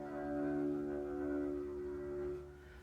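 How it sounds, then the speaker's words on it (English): An open string on a contrabass is bowed with too little pressure or rosin, giving a quiet, airy, breathy tone that holds for a couple of seconds before fading. "That airy sound is because you're not pushing hard enough, or your bow doesn't have enough rosin."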